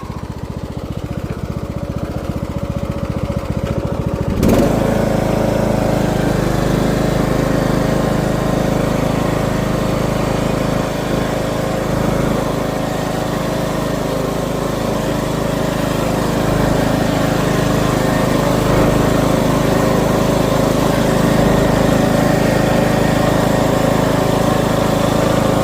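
A Husqvarna riding mower with a newly replaced drive belt and pulley is driving along after a quiet start. Its engine rumbles loud and steady and close, with no voices.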